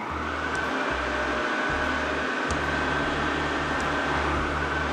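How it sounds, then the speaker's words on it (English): A dryer runs in the Thimbleweed Park video game, giving off a steady airy whir with a low pulsing hum underneath, constant and moderately loud with faint periodic ticks. "Maybe we could use this dryer."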